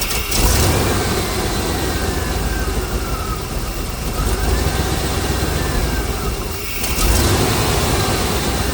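An engine with old-school rocker arms is started and left idling with its valve covers off for valve adjustment, a loud, steady, close rumble that surges briefly near the end.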